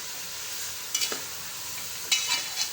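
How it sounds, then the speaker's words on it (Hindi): Chicken pilau masala being stirred in a pot with a faint steady sizzle and two clear bursts of spoon scraping and clinking, close and alone. "ये मैं हिलाती हूँ इसे"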